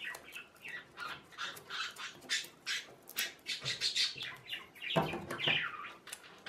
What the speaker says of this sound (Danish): Jeg har nogle fugle, der larmer helt vildt i baggrunden.